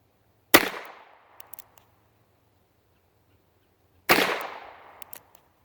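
Two sharp gunshots from an H&R Model 925 .38 S&W revolver, spaced about three and a half seconds apart, each with a loud crack and a decaying echo, followed by faint mechanical clicks.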